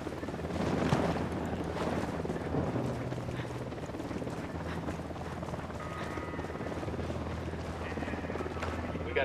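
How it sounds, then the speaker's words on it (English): Helicopter approaching in the video game Ghost Recon Wildlands, a steady low rotor drone with wind-like rush, fairly faint and continuous under gameplay sounds. "Chopper inbound."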